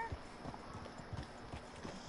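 A horse carrying a rider in Red Dead Redemption 2 clip-clops along at a steady walking rhythm, its hoofbeats thudding under a constant outdoor ambience.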